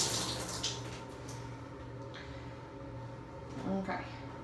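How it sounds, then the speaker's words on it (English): Clothes being hand-washed in a tub of water, with faint, steady sloshing and splashing over a low background hum, swelling slightly near the end. "Wash some clothes."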